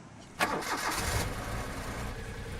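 A car engine cranks and catches into a steady idle with a rising roar, close and clear, in a staged radio drama scene with no voices.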